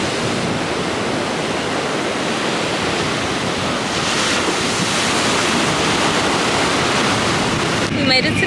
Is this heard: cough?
no